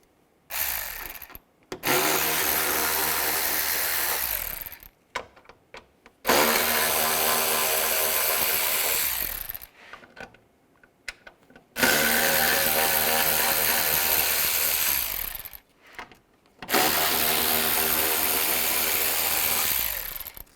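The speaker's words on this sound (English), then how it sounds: "remove these screws. There's 4 of them. Use a T20 socket." A power tool backs out headlight screws with a T20 socket on a 2010-2017 Chevrolet Equinox, four separate loud whirring bursts of a few seconds each, separated by brief quiet gaps.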